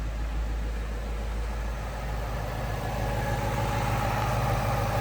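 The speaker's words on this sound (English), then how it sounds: "a super burble coming out of the exhaust" A 2017 Ford Mustang GT idles steadily nearby, its exhaust giving a deep, continuous low burble with no one speaking.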